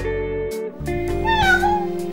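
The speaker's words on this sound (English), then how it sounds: "Cat." A cat meows, drawn out and rising and falling, over a steady sustained tone with no one speaking.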